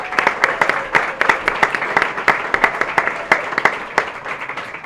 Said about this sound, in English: so we can give him a round of applause to begin with